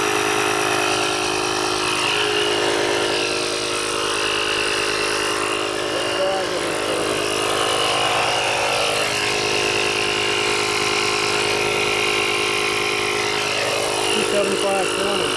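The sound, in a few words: JF.EGWO 6000A jump starter air compressor running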